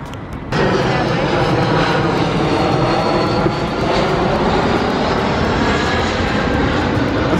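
Fixed-wing airplane climbing out after takeoff near a London airport, a loud, steady jet roar that sets in abruptly and holds for several seconds outdoors.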